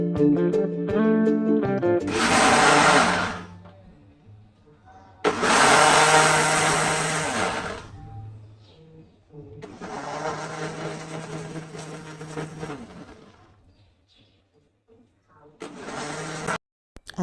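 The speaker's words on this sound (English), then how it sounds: "I'll blend all my wet ingredients in the blender." Wet cupcake ingredients whirring in a blender in a home kitchen, a loud motor roar in several bursts of a few seconds each, separated by quieter gaps.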